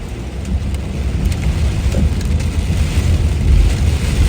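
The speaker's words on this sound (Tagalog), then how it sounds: "sobrang lakas talaga ng ulan" Heavy rain in Canada, heard from inside a car with the wipers running, pours steadily with a dense, rushing roar and a low rumble underneath, constant and loud throughout.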